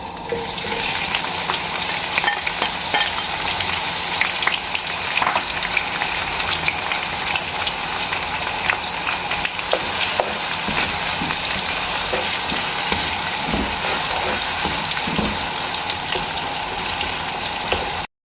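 Mustard oil heating and frying in a kadhai with vegetables, a steady dense crackling sizzle running continuously and close, with occasional stirring scrapes and pops.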